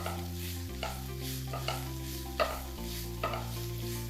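Chopped onion and capsicum sauté in a pan, a steady soft sizzle broken by a few light scraping stirs, with a low hum running under it and no talk.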